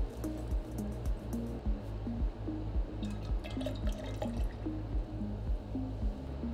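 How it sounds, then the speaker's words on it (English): Distilled water poured into a bottle of reagent buffer in a laboratory, a rhythmic glugging and trickling pour with repeated low bubbling pulses and a few brighter splashes, close and steady throughout. "Dilute the contents of bottle 3 GOPOD reagent buffer to 1 litre with distilled water."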